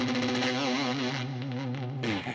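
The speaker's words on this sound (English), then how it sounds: "this guitar is awesome. It has such good tones to it." A 1981 Ibanez Blazer electric guitar rings out a low string through heavy distortion and effects, a sustained, wavering note held with vibrato before a fresh attack near the end.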